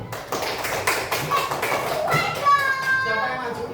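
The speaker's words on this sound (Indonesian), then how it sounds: "Beri tepuk tangan untuk kelompoknya Mbak Kini" A classroom group of children applauds for a team, a short burst of brisk clapping mixed with chatter and a teacher's voice, ending in a whistle-like squeak.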